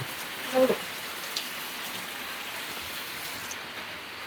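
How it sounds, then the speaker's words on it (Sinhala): Heavy rain falls steadily, a constant dense hiss of drops striking surfaces outdoors, with a few brief knocks near the start and no speech. "අපිට වහිනවා යාළුවනේ හොඳටම."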